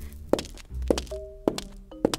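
Four evenly spaced footsteps land on medium roast coffee grounds in a foley studio, each a soft crunchy thud with a gritty, dirt-like texture, close and fairly quiet.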